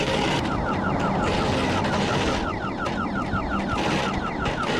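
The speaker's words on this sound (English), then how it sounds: "There's an alarm going off." A car alarm blares loudly and continuously, cycling through rapid repeating warbling chirps and tones over a dense background of noise, heard outdoors without speech.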